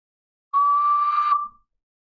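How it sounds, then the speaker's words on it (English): An ocarina sounds one sustained, steady high note, played with the left thumb lifted after C. It holds clear and close for about a second, then stops. "After C, you lift your left thumb and you just put it off to the side so you're still supporting the ocarina."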